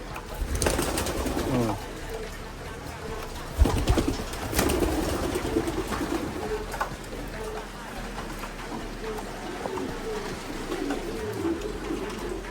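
Pigeons coo softly and repeatedly in an indoor loft, with a person talking and handling trays nearby, plus occasional bumps and knocks.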